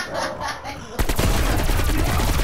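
Gunfire in the Call of Duty video game cuts in abruptly as a loud, dense burst of rapid automatic shots that runs on without a break after a quieter opening.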